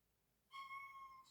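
A pet cat, addressed affectionately at home, gives a single drawn-out meow close by, starting after a brief quiet and holding steady for under a second before trailing off.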